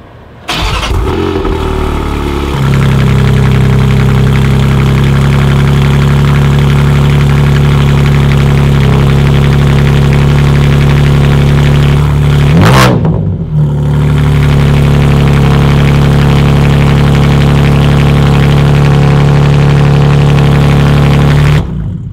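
A BMW M3 with an Akrapovic exhaust, midpipe and downpipe fires up with a sharp start, then holds a loud, steady idle up close, briefly blipped before settling again, with no talking over it.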